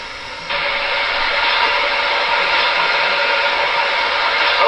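Water rushes from the tender spout of an MTH Premier NYC Niagara model steam locomotive, a steady broadband hiss that starts abruptly after a brief quiet moment and holds loud and even throughout.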